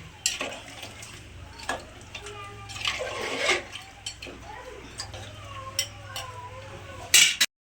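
Potatoes tumble into a pot of hot water for a goat meat curry, making a run of close clattering knocks and soft splashes, with metal scraping between them and a sharper clink near the end.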